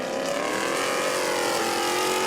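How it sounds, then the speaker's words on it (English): Powerful 650-horsepower Stadium Super Trucks race engines roar at high revs at Foro Sol in a continuous, loud drone, with the pitch climbing slightly as they accelerate. "You hear those trucks sounding really good. Big horsepower there, 650 horse."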